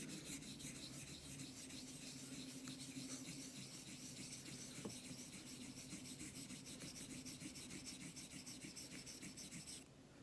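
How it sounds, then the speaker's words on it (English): A Dubl Duck Dwarf straight razor honed in circles near the heel on a Naniwa Super Stone, a close, quiet, continuous gritty rubbing and rasping that repeats in a steady rhythm, no talking. "I'm going to just give it maybe 25 circles just toward the heel for the most part."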